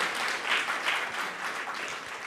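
Audience clapping at a talk on interactive SVG programming, a steady burst of applause from many hands filling the room without a break, fairly close and even in loudness.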